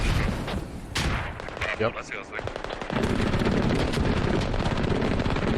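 Mortar and artillery fire in the tactical shooter Squad booms in rapid, rumbling bursts, dense and continuous, with a brief spoken word over the top.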